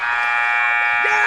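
A buzzer sounds at a high school varsity boys basketball game in an East Fairmont gym. It is one loud, sustained electronic tone that fills the whole moment, with crowd murmur faintly beneath it.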